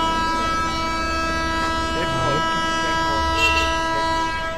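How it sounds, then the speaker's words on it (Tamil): An Indian Railways train rumbles past with a long, steady horn blast sounding throughout, loud and sustained, with faint voices underneath. "ட்ரெயின் இருக்கனால அந்த சவுண்ட் கேட்கு"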